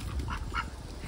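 A farm goose in Normandy, France, giving two soft, nasal honks close by over low rumbling background noise.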